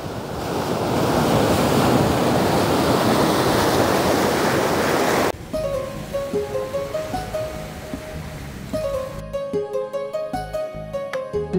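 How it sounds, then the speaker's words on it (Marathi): Sea waves at high tide crash against black rocks on Karde beach in Konkan, heard as a loud, steady roar of surf for about five seconds before giving way to music. "सध्या भरती चालू असल्यामुळे समुद्राच्या लाटा ह्या अगदी किनाऱ्याच्या खडकांपर्यंत येऊन आपटत आहेत"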